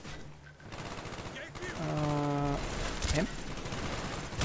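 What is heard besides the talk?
gunfire in Call of Duty Black Ops video game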